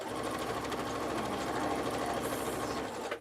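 A sewing machine runs a steady basting stitch around a pivot on a fanny pack seam, a fast, even mechanical whir and clatter at close range that continues without pause and stops abruptly at the end.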